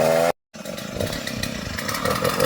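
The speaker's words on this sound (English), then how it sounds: "Kuya's out here with the chainsaw this morning and just doing some tree lopping." A chainsaw lopping tree branches roars close by, cuts out for a brief moment, then resumes with a buzzing, revving drone.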